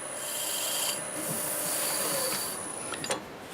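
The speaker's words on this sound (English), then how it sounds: "we'll take this Scotch-Brite pad and I'll run this pretty fast. And then I'll just go over it like so." A Scotch-Brite pad rubs against a piece of black walnut spinning fast on a wood lathe, giving a steady, smooth hiss with a faint whine from the machine.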